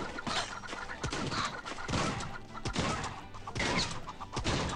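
Cartoon ducks in the video game Swamp Attack 2 cluck and quack in short repeated bursts, mixed with crashes and bangs from the game action.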